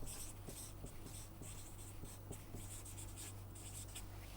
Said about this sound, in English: Let us write that down.